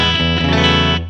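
An Astrocaster electric guitar through the vibrato channel of a Vibralux Reverb replica amp rings out sustained chords with a wavering, pulsing shimmer, loud and up close, then fades out.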